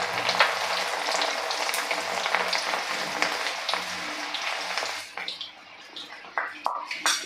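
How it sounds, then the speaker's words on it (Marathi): Soaked chana dal deep-frying in hot oil, a loud, steady bubbling sizzle that thins out partway through, leaving sparser crackles and pops. "डाळ तळण्यासाठी थोडासा वेळ लागतो"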